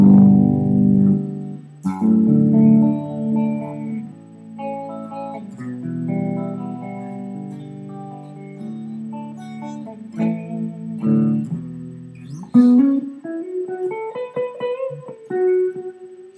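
Clean tone from a Dean ML X electric guitar with both pickups selected: close, sustained notes and chords strummed and picked, ending in a rising bend or slide.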